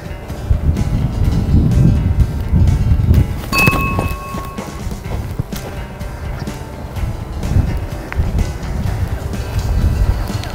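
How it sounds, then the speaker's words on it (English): Wind buffets the microphone on an open golf course, a continuous low rumbling roar with gusty swells throughout, loud and close, with faint incidental sounds in the background. "Wind is from the left."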